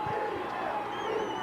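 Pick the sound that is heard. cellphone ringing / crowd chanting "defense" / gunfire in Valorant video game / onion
crowd chanting "defense"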